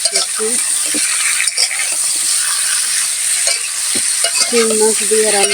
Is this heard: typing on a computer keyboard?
no